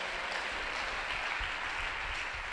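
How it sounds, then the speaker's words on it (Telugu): A church congregation claps during a sermon, a dense, steady wash of many hands applauding continuously at moderate volume, with no speech over it. "కొట్టు చప్పట్లో."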